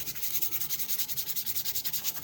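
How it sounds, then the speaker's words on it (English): Sandpaper rubs steadily over a vintage shaving brush being restored, a fast, even back-and-forth scratching of about twenty strokes, close and fairly quiet, with no voices. "Every time you step up like that, you reduce the depth of the scratches that sandpaper works through."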